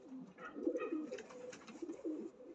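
A pigeon from a breeding loft coos softly up close, a few low rolling murmured calls in quick succession over a quiet background.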